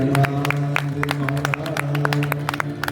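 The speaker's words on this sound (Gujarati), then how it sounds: "અમારા મંડળને એકવાર જોરદાર તાળીઓથી વધાવો" A crowd claps for a visiting devotional music group at a Sundarkand recitation gathering, with scattered sharp claps over a steady sustained tone and background murmur.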